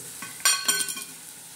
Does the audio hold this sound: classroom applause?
no